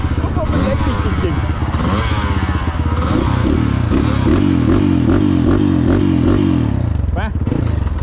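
A new 140G trail motorcycle rides a forest trail near Khao Khiao, its loud, close engine droning and revving steadily with clattering and rattling over rough ground throughout.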